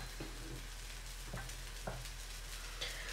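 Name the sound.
semolina harcha galettes cooking in a pan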